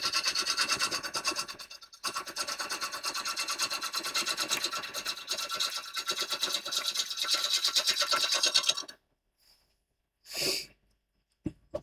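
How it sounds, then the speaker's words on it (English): Push cuts on a bubble bowl spinning on a big, heavy woodturning lathe give a steady, close scraping rasp of tool on wood for nearly nine seconds, then stop, leaving near silence broken by one short rubbing burst. "And then I like to do push cuts around the side."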